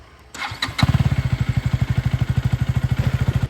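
A Suzuki V-Strom motorcycle engine kicks to life close by and settles into a loud, even, rhythmic chugging idle.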